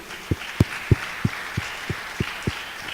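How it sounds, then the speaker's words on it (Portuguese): A church congregation applauding for Jesus, heard as a run of separate, evenly spaced low claps, about eight in three seconds, over a soft hissing room background. "Dê uma salva de palmas ao Senhor Jesus."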